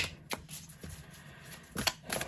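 Tarot cards shuffled by hand during a relationship reading, heard as a few short crisp riffling bursts, close and fairly quiet, separated by brief pauses with no talking.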